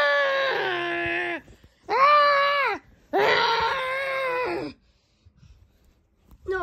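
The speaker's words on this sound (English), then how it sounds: "No demonic screaming in this territory." Three long, loud, harmonically rich screams in an animated object-show episode, strained and wailing with short gaps between them, then near silence with faint rustles.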